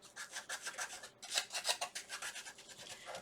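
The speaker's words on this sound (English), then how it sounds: "So I'm just going around again, sanding the edges." Hand sanding around the edges of a small wooden shamrock craft piece, a quiet rhythmic rasping of back-and-forth strokes, about a dozen quick rubs with a brief pause, close and alone.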